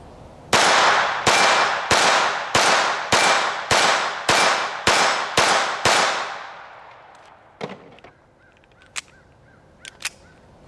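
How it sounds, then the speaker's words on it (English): A Ruger SR22 pistol fires CCI 36 grain MiniMag ammunition: ten loud, sharp shots in a fast, even string, followed by a few faint metallic clicks and clatters. "I'm going to run through a couple of magazines of each, starting out with the 36 grain MiniMag."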